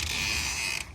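A house's front door creaks open in one sustained, fairly loud whine lasting just under a second and then stops abruptly.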